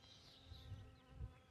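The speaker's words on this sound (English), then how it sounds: "this bee wants to talk to the microphone" A bee from a two-frame nucleus hive buzzes close to the microphone, a faint fluctuating drone that rises and falls as it moves about, with no talk.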